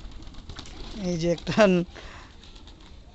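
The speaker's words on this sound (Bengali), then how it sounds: "ওই যে দেখেন কবুতরের সুন্দর ডাক" Pigeons drinking from a water bucket on a hot day give low coos close by, partly mixed with a voice speaking over them in the middle.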